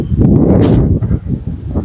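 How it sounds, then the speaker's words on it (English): Loud, gusty wind buffets the microphone on a disc golf course, a close, rough roar that surges and fades over a couple of seconds. "wind is picking up"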